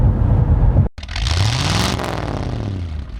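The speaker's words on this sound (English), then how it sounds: "hear the engine every time you stomp on the gas so loudly" A 2021 Cadillac CT5-V engine roars up in pitch after a brief cut, revving hard and loud, then eases back down into a sustained drone.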